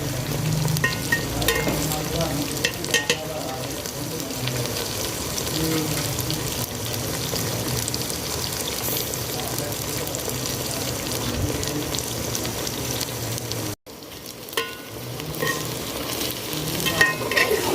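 Okra (bhindi) fries in a pan with a steady, close sizzle and the scrape of stirring, a continuous hiss that breaks off briefly once.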